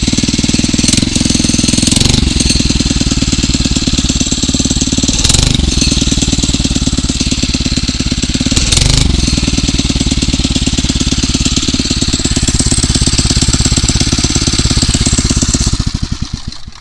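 A Phatmoto Rover 79cc four-stroke motorized bicycle engine runs steadily up close, a loud, fast, rattling putter held for many seconds before it drops off at the end.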